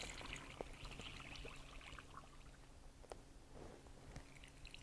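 Brine is poured into a jar packed with small Kirby pickles for natural dill fermentation, giving a soft, continuous trickling and splashing with a few clinks, fairly quiet and close.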